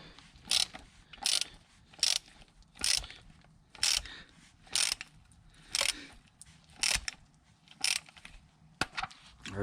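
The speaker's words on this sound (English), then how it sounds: "take a socket wrench, and we're going to go ahead and put that on there and start turning" A socket wrench ratchets on a ball joint puller while a lower control arm is replaced on a 2009-2020 Nissan 370Z, with short clicking bursts repeating at a steady rhythm about once a second, close and fairly quiet.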